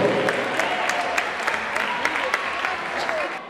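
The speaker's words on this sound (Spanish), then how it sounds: "Fuertes aplausos." Between rounds at a Patagonian league boxing match, the crowd keeps up a steady patter of applause with a few sharper claps. A voice talks over it.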